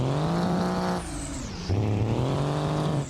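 A car in the BeamNG driving game hums steadily along with a continuous engine drone that shifts pitch once midway, sounding close and unbroken.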